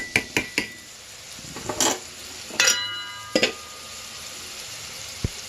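Spices fry in a pan with a faint sizzle, punctuated by several sharp metallic clinks of a spoon scraping and tapping.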